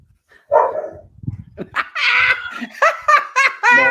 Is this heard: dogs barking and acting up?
yes